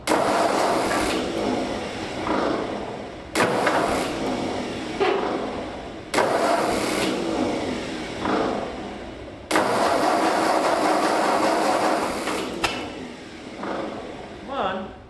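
An old Ford tractor engine cranks and catches repeatedly, four separate loud bursts of rough running each dying away before the next start attempt, close by with some voice in between.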